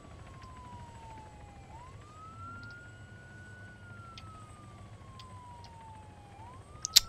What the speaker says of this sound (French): cette sirène me casse un petit peu les oreilles